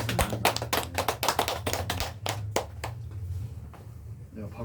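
Church congregation clapping to welcome a new member during a Sunday service, a burst of close, loud hand claps that fades into quieter murmuring and talk.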